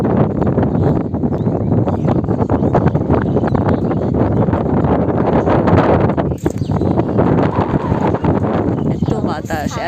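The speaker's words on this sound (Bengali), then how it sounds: "এত বাতাস, এত বাতাস।" Strong wind blows on the Padma riverbank, roaring and buffeting the microphone continuously at high level, with people's voices and rustling mixed in.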